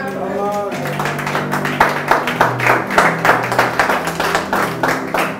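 A church congregation claps together in praise, a steady rhythmic patter of many hands that swells after the first second, with voices and music carrying underneath.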